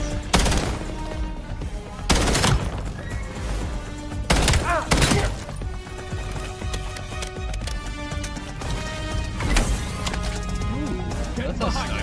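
Sniper rifle and other gunfire in Call of Duty Black Ops 7, loud sharp shots cracking at irregular intervals, several in close bursts, over dense game sound and music, with players talking throughout.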